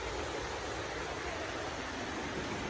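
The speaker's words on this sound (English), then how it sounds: "Listening to the sound of water is really good for the sacral chakra, the sound of running water." Running water streams steadily as a continuous broadband hiss, close and even throughout with no voices, the constant rush of flowing water.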